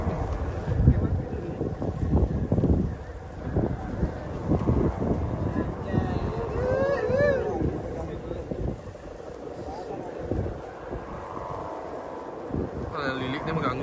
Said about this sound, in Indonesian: Anginnya badai semeton.